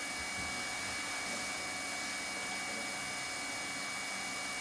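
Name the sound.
manual hot air welding unit sealing a seam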